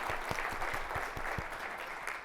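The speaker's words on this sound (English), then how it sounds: "Give a round of applause." An audience at a corporate summit session on transgender apprentice programs breaks into steady applause, a dense wash of clapping with a few sharper claps standing out, continuous from start to finish.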